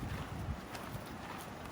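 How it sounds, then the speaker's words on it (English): Strong wind buffets the microphone outdoors, a steady rough rush with gusty low rumbling and no voices. "It's really windy out here."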